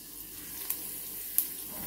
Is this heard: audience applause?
no